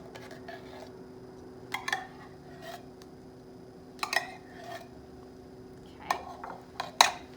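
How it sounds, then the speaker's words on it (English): A spoon stirs canned cheese soup into macaroni for mac and cheese, giving scattered scraping clinks against the pot, a few sharper knocks and quiet gaps, close and moderately loud over a steady low hum. "Spoon this in, and we're just gonna stir it up"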